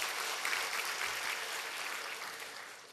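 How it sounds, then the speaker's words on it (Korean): Congregation applause in a church after a choir's hymn during a sermon, a dense, steady wash of many hands clapping that fills the room and slowly tapers toward the end. "박수 한번 해줘요."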